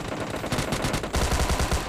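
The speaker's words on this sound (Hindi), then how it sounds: "तभी मेरा टीममेट उनको फायर देता है" Rapid automatic gunfire during a PUBG Lite duo-versus-squad match, loud bursts of shots in a steady rattling rhythm that grows heavier toward the end, with no talking.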